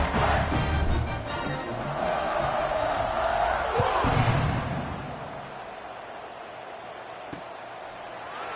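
A stadium crowd roars through a college football game where Arizona State's home team leads 27-0 in the first half; the broad, steady roar swells near the middle, then eases to a lower murmur.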